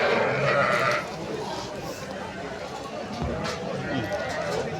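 An Arashan ram lamb bleats loudly at close range, with other sheep calling around it and a person talking over the animals.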